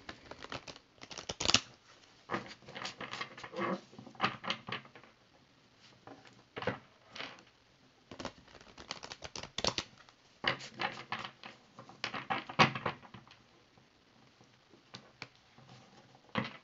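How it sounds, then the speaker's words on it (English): Tarot cards shuffled by hand at close range, a long run of crisp riffling and flicking bursts in irregular clusters with short pauses between, no talking over it. "I'm just going to shuffle these real quick."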